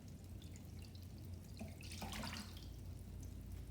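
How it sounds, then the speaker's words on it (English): Water from a pitcher poured onto a wetland floodplain model, a steady, quiet splashing and trickling flow that swells briefly midway, heard alone. "I'm gonna pour an entire pitcher of water on the wetland"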